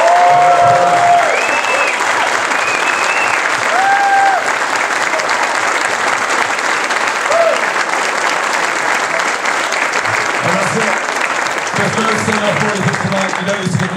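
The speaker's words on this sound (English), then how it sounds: "A round of applause." Loud, sustained audience applause at a live show at the Sugar Club, steady crowd clapping throughout, with voices and some tonal sounds mixed in over it.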